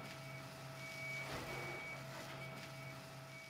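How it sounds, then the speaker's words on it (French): A truck reversing at a green-waste processing site sounds its backup alarm, a steady repeating electronic beep heard from some distance over low engine rumble and ambient site noise. "Chaque semaine, des camions déchargent ici les déchets verts déposés dans les déchetteries par les particuliers"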